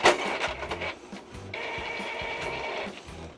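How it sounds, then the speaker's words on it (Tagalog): Two Epson L121 inkjet printers, one loaded with sublimation ink and one with pigment ink, run together with rhythmic mechanical clicks and whirring carriage passes, fairly quiet and close. "So nag-print guys yung parehong printer,"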